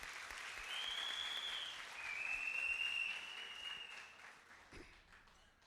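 An audience at a goal-setting training boot camp gives a soft, steady round of applause, fairly distant and faint, with a high whistle-like tone drifting over it and no talking.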